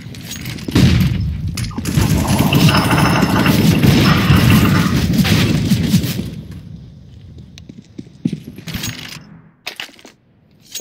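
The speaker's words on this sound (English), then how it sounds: "Deploying flashbang." Video-game combat with a flashbang and grenade blasts, a dense loud roar of explosions and gunfire lasting several seconds, then fading into scattered sharp shots and quieter debris.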